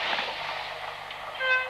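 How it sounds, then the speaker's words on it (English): A tilting Advanced Passenger Train at Oxenholme passes with a steady rushing rumble, and a sharp horn-like tone rises over it at the end. "The most spectacular failure to emerge from Crewe was the tilting advanced passenger train"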